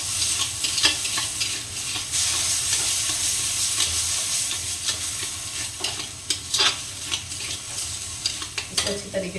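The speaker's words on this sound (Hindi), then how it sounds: "मसाले को पहले भूनते हैं।" Masala spices frying and being stirred in a pan in a home kitchen, a steady sizzle with repeated scraping stirs, close and continuous with no talking.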